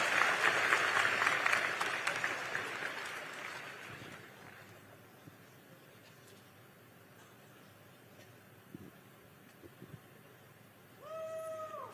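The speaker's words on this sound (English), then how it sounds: "Give Liam a round of applause, folks, for being brave and asking a tough question." Audience applause for Liam at a Vivek Ramaswamy town-hall event, loud and dense at first, fading out after about four seconds to quiet room tone; a brief high squeal sounds near the end.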